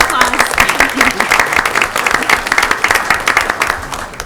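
A school board meeting audience applauds a student who has just spoken, loud and dense clapping sustained for several seconds from a large crowd in a meeting hall.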